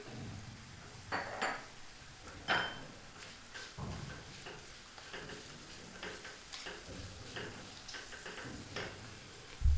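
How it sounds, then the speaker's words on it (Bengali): Spoon stirring turmeric, cumin and chili powder spices in a metal pan for a ridged gourd and moong dal dish, producing soft scraping and intermittent clinks of utensil against cookware, close and fairly quiet, with no talking. "মশলাটা মিশিয়ে নিচ্ছি।"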